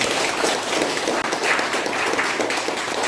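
Broad, even applause from a seated audience at a founding general meeting held at the Seodaemun Prison History Hall, a dense continuous wash of clapping heard from across the room without voices.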